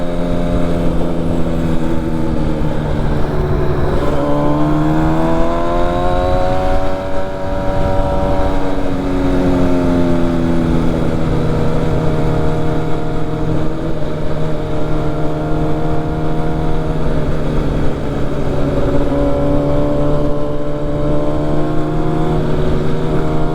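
A Harley motorcycle engine runs loud and close, its pitch sweeping up repeatedly through gears with steady rumbling throughout and no voices.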